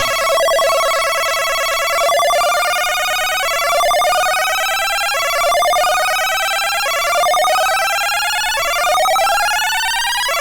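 A retro video-game synthesizer tone with a linear pitch envelope plays bright buzzy harmonic notes that glide upward and reset in a steady repeating cycle, loud and alone.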